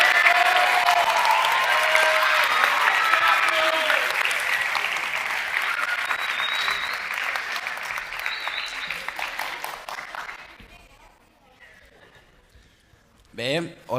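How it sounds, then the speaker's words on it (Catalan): Lively applause and cheering from a school anniversary audience build loudly at first, then taper off and fade to near silence, with voices and laughter mixed into the crowd noise. "Un aplaudiment."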